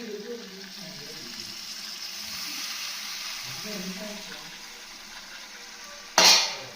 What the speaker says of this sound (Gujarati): હવે એમાં જે આપણે પલાળેલા સાબુદાણા છે તે આપણે નાખી દેવાના છીએ.